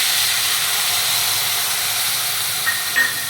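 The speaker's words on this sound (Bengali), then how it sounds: "তৈরি করে রাখা সরষের পেস্টটি তেলের মধ্যে এবার দিয়ে দেবো।" Mustard paste hits hot oil for a pabda fish curry and gives off a broad, steady hiss of sizzling, close and unbroken, with a couple of small clicks near the end.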